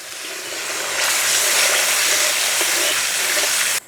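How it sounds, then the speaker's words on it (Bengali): Water poured into a pan of hot tempered spices and chicken marinade for khichuri, bursting into a loud, broad hissing sizzle that swells after a moment and holds steady before cutting off. "একটু জল দিয়ে দেব।"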